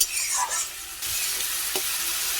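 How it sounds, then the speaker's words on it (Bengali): Kashmiri red chili powder and ginger paste frying in a pan for a cabbage curry, with a close, steady sizzle and stirring scrapes running through the whole short stretch. "দিয়ে দিচ্ছি একটু আদা বাটা দিয়ে ভালো করে এগুলোকে কষিয়ে নেব"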